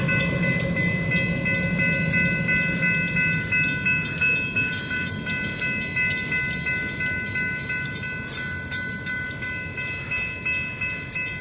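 A train rolls through a railroad crossing, a steady rumble of railcars with rhythmic wheel clatter and the crossing bell ringing throughout, fairly close and alone without talk.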